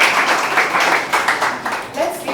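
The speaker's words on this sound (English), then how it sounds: "Let's give him a better hand clap than that." An audience applauds at a Nigerian film talk session, irregular bursts of hand claps rising and falling with voices mixed in underneath.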